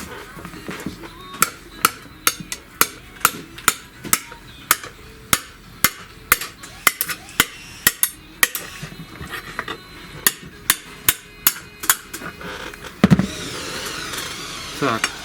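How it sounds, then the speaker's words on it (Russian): A small hammer taps repeatedly on a rocker arm in the engine of a Mercedes A140 (W168) during hydraulic lifter work, giving sharp metallic knocks in irregular bursts, some rapid, with a brief clatter near the end. "Сейчас чуть-чуть молоточком."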